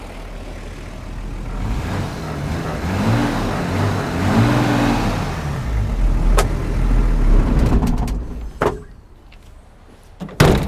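An old Toyota Land Cruiser HJ45 engine running up close, its rough diesel rumble swelling through a few revs before easing off, followed by clunks and knocks near the end.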